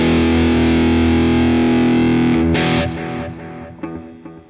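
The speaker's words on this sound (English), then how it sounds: "you certainly could add delay" Distorted electric guitar through a small practice amp with a delay effect rings out as a sustained chord, then fades as a few softer picked notes echo and trail off.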